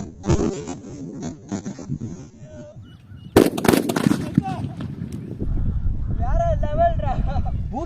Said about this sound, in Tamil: இப்போ நம்ம இதுல பவர் சப்ளை கொடுத்து எப்படி வெடிக்குதுன்னு பார்க்கலாம்